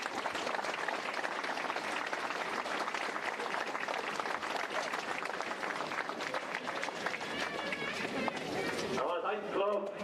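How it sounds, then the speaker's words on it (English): Crowd applause at a Gaelic football senior final, a loud, dense, sustained clatter of many hands clapping that stays even for most of the stretch before cutting off near the end. "So you round of applause for Lomans, please."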